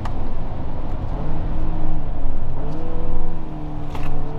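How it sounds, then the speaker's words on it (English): A 2022 Hyundai Santa Cruz engine pulls away from a stoplight, a loud, close, steady drone rising and falling slightly in pitch as it accelerates, with no talking. "the engine doesn't sound good"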